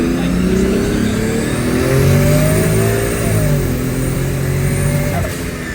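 An AWD 2JZ-powered car launching on four-wheel drive, its engine screaming at high revs with rising and falling pitch as the tires spin, loud and close throughout with no talk.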